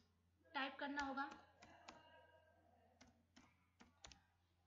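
A few light, scattered clicks on a computer keyboard follow a brief stretch of someone speaking, the keystrokes faint and irregular in a quiet room.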